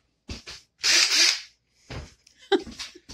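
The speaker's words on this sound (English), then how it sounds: "we're going to blast some screws in it so it doesn't move" A cordless screw gun drives screws into a pocket door, two short whirring bursts up close, the longer one near the start, with handling clicks and knocks between.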